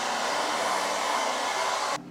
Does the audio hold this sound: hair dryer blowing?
yes